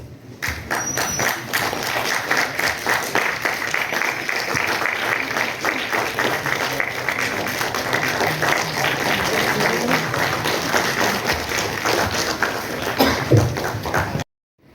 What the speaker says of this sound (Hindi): बहुत ही गुंजयमान तालियों के साथ होनी चाहिए